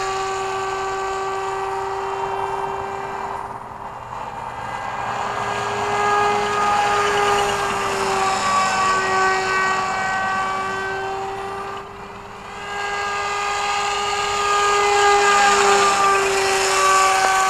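A large MIA Autogyro EZ 2.0 radio-controlled gyrocopter in flight, one rotor blade slightly off balance and wobbling: a loud, close, continuous motor whine that rises and falls in pitch, with no voices.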